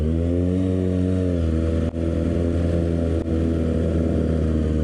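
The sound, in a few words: sport motorcycle engines revving, Kawasaki ZX6R and Suzuki GSX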